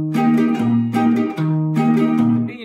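Acoustic guitar playing a country pattern, alternating single bass notes on the fifth and sixth strings with strums, steady rhythm, close and clear with no talking.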